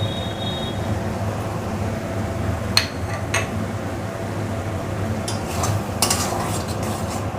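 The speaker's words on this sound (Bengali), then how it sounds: "এবার সব একসাথে ভালো করে মশলাটা কষিয়ে নেব।" Spice paste with tomato and green chili fries in a pan as it is stirred, a low steady sizzle broken by a few sharp scraping clinks of the spoon against the pan, no talking.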